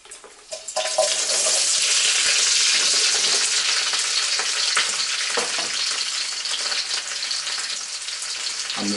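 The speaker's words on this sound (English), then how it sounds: "Oh yes, it's sizzling." Mini sweet corns hiss and crackle in a hot frying pan, a loud, steady sizzle that flares up as they hit the oil and carries on close by without talk.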